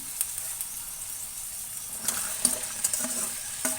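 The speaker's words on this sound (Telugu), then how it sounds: "ఇప్పుడు మనం బెండకాయ ముక్కలను వేసుకుందాము" Okra pieces sizzle in a pan of fried onions while making an okra, potato and sweet corn fry curry; a steady hiss runs throughout, with a few sharp clicks of stirring near the end.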